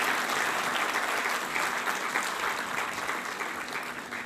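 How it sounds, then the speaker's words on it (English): Sustained applause from a large conference audience honouring two session speakers, a dense, steady wash of clapping at moderate level that holds for several seconds and thins slightly toward the end. "I will request the whole audience to give a grand applause to both of the speakers"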